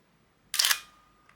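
A single shutter release on a Nikon F4 film camera, one close, crisp mechanical snap with a short whir, followed by a faint tick and quiet.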